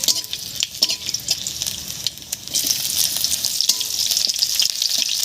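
Chopped onions frying in mustard oil in a wok, a close, steady crackling sizzle with scrapes of stirring that swells louder midway and continues alone without speech.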